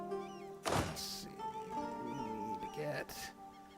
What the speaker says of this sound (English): We need to get the kitten off of our desk